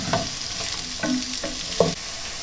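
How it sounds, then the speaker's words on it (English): Peppers fry in oil in a pan for savoury rice, a close steady sizzle broken by several scraping stirs at roughly half-second intervals, with no talk. "So we place the peppers into the pan, and again, all we're going to do with these is just to soften them"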